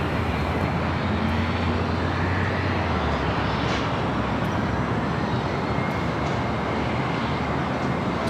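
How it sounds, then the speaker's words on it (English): An Alaska Airlines A320 rolls down runway 25 right at LAX on its takeoff run, giving a loud, steady jet engine roar with broadband rumble that holds constant throughout and has no pauses. "A320 heading to Des Moines, Iowa. Now rolling down 25 right."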